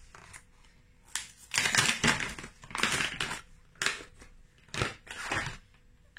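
Crinkly plastic packaging is crushed and torn open in several loud, uneven bursts while a package of small scissors is unwrapped close up, with pauses between the rustles.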